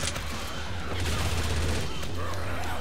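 Rapid gunfire in Left 4 Dead crackles in a dense, continuous burst of overlapping shots at moderate loudness, with a low rumble underneath.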